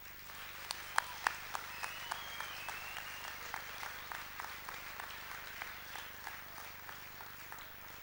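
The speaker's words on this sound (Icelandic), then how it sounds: "ég legg til að við gefum þeim öllum gott klapp" An audience at a 1990 awards ceremony in Borgarnes, Iceland, claps steadily for athletes, with distinct sharp individual claps standing out from a faint, sustained spread of applause.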